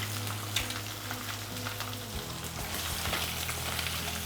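Boiled potatoes frying in a pan for a Bengali aloo posto fish curry give a loud, continuous close sizzle and crackle with no talk over it.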